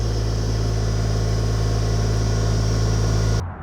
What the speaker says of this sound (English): He's getting pretty good at this tractor backhoe situation.